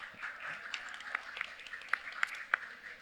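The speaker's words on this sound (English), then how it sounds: "a little clap for Mauricio." Faint, sparse clapping from a small audience for a landscape designer at a talk, with a few scattered sharp claps over quiet room tone.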